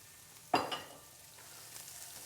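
Bacon and garlic dropped into a hot pan give a sudden loud sizzle that flares up and then settles into a softer, continuous frying hiss.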